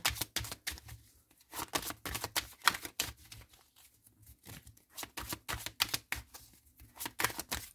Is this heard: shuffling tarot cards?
yes